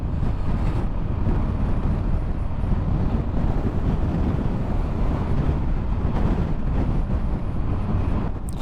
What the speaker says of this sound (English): Can't escape this wind.